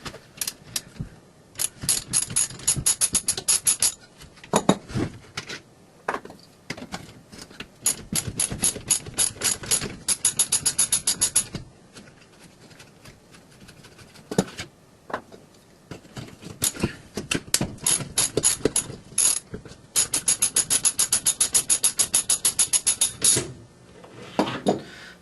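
A ratchet wrench removes bolts from a Pontiac Fiero headlight motor, giving rapid clicking bursts repeated many times with short pauses between them, close and loud, without talk.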